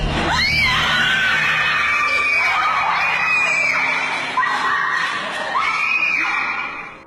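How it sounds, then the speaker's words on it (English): Teenagers scream in panic as they flee, several shrill, rising and falling cries overlapping in a sustained burst that fades at the end. "Screaming ensues as the teens flee the scene."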